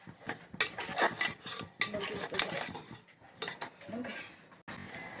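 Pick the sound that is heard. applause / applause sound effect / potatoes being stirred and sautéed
potatoes being stirred and sautéed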